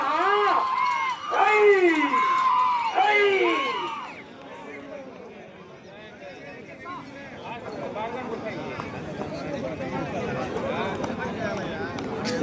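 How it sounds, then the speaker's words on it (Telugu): A crowd at a village competition event shouts and cheers. Loud, close bursts of high-pitched yelling come in the first few seconds, then fade into a softer, continuous babble of many voices. "కేకలు కేరింతలు"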